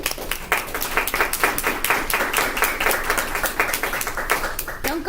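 An audience claps at the close of a discussion talk, a dense, steady patter of many hands lasting several seconds with no speech over it.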